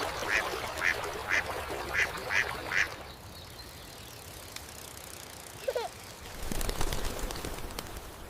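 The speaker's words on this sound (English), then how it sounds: "look at all the ducks" Ducks at a riverside park give a run of six or seven short, evenly spaced quacks up close, then fall quiet before a brief bird call and a burst of rustling noise.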